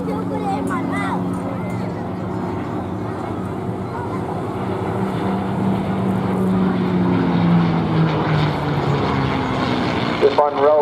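A piston-engined P-51 Mustang propeller plane drones overhead at the Bournemouth airshow, a loud sustained engine tone that rises and shifts in pitch as it passes, under continuous commentary over a loudspeaker.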